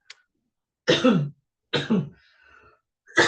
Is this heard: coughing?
yes